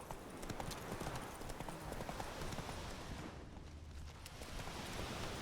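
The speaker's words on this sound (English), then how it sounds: "Whoa there, Roach" Horse hooves clip-clopping at a trot in The Witcher 3, a steady close rhythm of hoofbeats over a constant outdoor game ambience.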